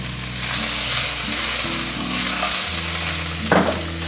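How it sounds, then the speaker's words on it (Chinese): Eel pieces sizzle in oil in a hot iron wok over high heat, a steady close frying hiss with a low hum beneath and a brief clatter near the end. "接着我们下入鳗鱼，保持大火煎"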